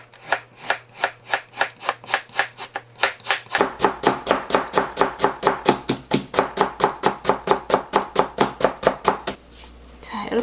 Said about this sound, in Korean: 채를 곱게 썰어줍니다.